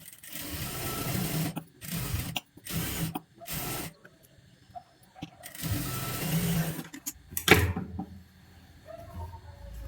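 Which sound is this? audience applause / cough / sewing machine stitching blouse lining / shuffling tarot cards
sewing machine stitching blouse lining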